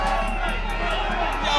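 Large crowd welcoming Burkina Faso leader Traoré, a dense roar of cheering and whooping voices with rhythmic chanting pulses, loud and close throughout.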